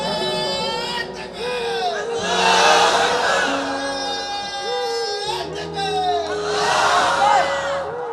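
At a sermon gathering someone shouts the takbir and the crowd roars back. Strained, drawn-out cries are followed by two big swells of massed voices, with a quieter stretch between the two bursts.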